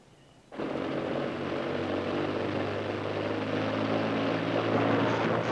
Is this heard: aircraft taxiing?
yes